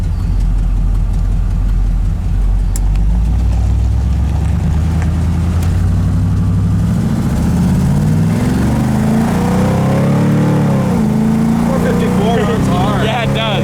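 A 1972 big block Monte Carlo drives along the road, its engine a loud, steady low rumble with rising revs under wind noise, while people talk over it inside the car.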